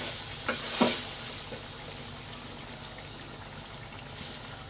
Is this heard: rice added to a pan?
yes